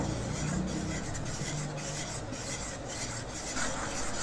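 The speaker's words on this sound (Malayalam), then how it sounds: "1 സ്പൂൺ വെച്ച് നന്നായിട്ടൊന്ന് മിക്സ് ചെയ്ത് കൊടുക്കാം ഒരേ ഡയറക്ഷനിൽ" A spoon stirs carrot cake batter in a bowl, giving a soft, continuous scraping and rubbing sound. It is close but faint, with no voices.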